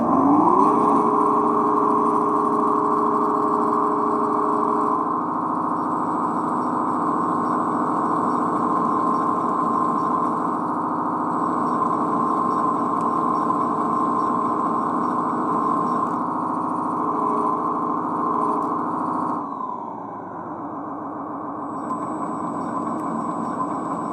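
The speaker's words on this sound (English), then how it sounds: "Switch B is our engine sound. Okay. And then if you switch it again, it will rev up the throttle." Sound board for a Cat 973 track loader playing an engine sound: a steady mechanical drone held for most of the clip, then dropping to a lower, quieter idle near the end.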